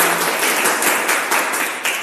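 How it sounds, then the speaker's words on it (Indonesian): A classroom of students applauds a classmate stepping up to present for her group, a brisk, continuous patter of many hands clapping that stays loud and even. "Tepuk tangan dulu untuk Neta."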